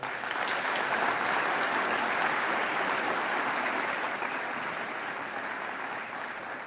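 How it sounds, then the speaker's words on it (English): Graduating class of 2023 applauding at a university graduation ceremony, sustained dense clapping from a large crowd, steady and fairly distant, slowly tapering toward the end. "So class of 2023, please give yourself a round of applause."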